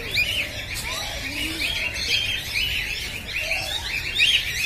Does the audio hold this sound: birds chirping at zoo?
yes